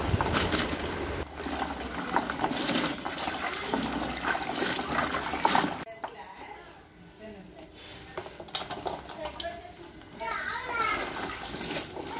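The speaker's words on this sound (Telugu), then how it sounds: "ముందుగా పచ్చిమిర్చిని ఇలాగా మంచినీటిలో శుభ్రంగా" Green chillies are washed by hand in clean water, with steady splashing and sloshing loud for the first half, then quieter trickles and faint rustles.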